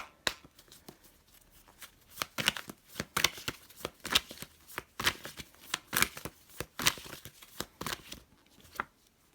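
Tarot cards being shuffled by hand in rapid bursts of crisp riffling, close and fairly loud, with brief pauses between runs and no talking.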